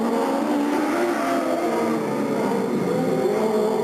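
Race cars at Delta Speedway roaring steadily as the pack comes off turn 4 at the green flag start, a dense continuous engine drone at a distance with no pauses.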